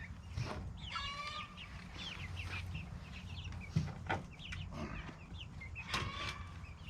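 Several chickens clucking and squawking in loud, excited bursts nearby after one lays an egg, with a low hum of background noise throughout.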